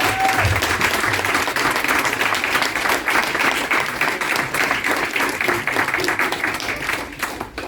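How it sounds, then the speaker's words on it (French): An audience at a women's sport event applauds a team of representatives, a steady wash of many hands clapping that fills the whole stretch, with faint voices mixed in beneath. "je crois qu'on peut les applaudir"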